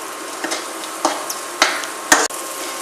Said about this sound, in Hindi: मसाले अच्छे तरीके से भून गए हैं